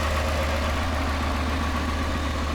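Supercharged Ford F-150 XLT V8 with a Whipple supercharger and stock exhaust idles nearby, a steady low rumble with an even, unchanging drone throughout and no voices.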